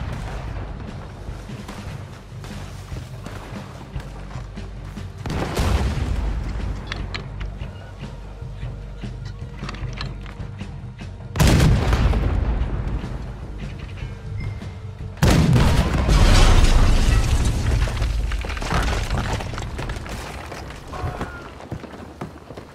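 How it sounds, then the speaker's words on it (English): Cannon fire from a ship battle in the video game Red Dead Redemption 2 on PS4, three heavy booming blasts several seconds apart over a continuous rumbling background of action noise. "We need to get that cannon out there!"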